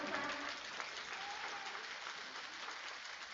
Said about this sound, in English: Give him a round, y'all. Clap it up.